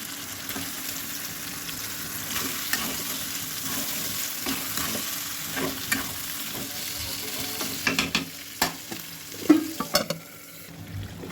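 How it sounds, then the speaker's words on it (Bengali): Meat sautéing in a spice masala sizzles steadily in a pan, with stirring scrapes growing louder and more frequent toward the end as the spoon knocks against the pan. "মাংসটা একটু কষা নিলাম"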